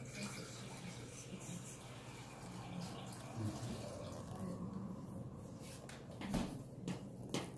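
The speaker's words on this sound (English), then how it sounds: "you want to fill a bowl up with ice-cold water, preferably with ice in it" Ice-cold tap water pours into a bowl as a steady, faint rush, with a few soft knocks and clunks near the end.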